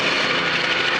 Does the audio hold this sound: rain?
no